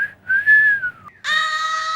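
A person whistles a short tune close up: a rising and falling sustained note, a brief pause, then a steady, louder held tone.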